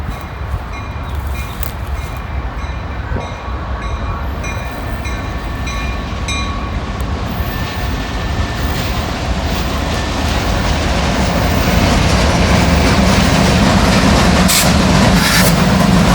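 A southbound Indiana and Ohio freight train led by old EMD SD40 locomotives rumbles past close by, steady broadband roar of wheels and engines building louder toward the end, with no talk.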